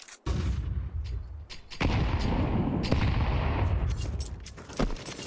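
Grenades exploding during a Counter-Strike esports match, heavy booming blasts that roll together with gunfire in a dense, loud barrage.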